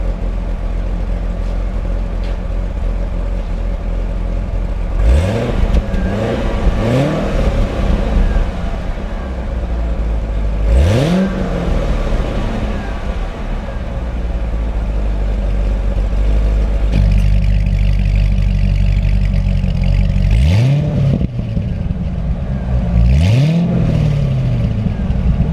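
A Corvette ZR1 with its exhaust valve open revs repeatedly, sharp throttle blips rising and falling over a steady deep rumble, close and loud, with a few clattering pops between revs.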